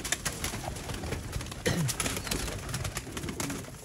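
A female teddy mix Sharmeela pigeon gives a brief, soft coo, faint among steady background rustle and scattered clicks.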